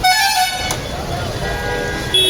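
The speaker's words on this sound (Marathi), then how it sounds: "फक्त ट्रॅफिक बघा, पूर्ण ट्रॅफिक जाम आहे, पूर्ण रस्ता जाम आहे" Car and truck horns toot and honk in a Marathi street traffic jam, with a loud blast at the start and again near the end over a steady roar of idling vehicles and crowd noise.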